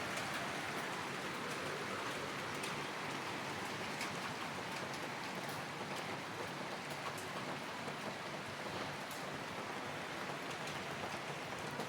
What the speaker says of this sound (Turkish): Yağmur yağıyor şu an.